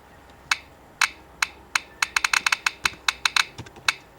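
Computer keyboard typing set to mimic a typewriter: crisp, sharp clacks, a few spaced strokes at first, then a faster irregular burst of keystrokes, close and clear with no talk.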